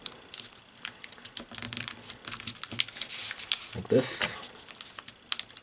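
Paper crinkling and creasing close up while folding an origami cross, a run of soft irregular rustles and taps, with a voice speaking briefly.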